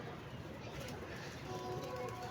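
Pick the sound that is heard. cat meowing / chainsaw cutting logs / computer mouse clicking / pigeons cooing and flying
pigeons cooing and flying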